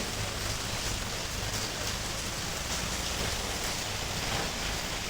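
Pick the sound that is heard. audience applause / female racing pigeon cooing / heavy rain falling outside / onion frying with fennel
heavy rain falling outside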